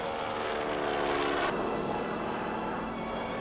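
A North American Harvard piston-engine trainer takes off for an aerobatic display at a New Zealand air show, its engine a steady, loud, broad roar that holds throughout with a slight shift partway through.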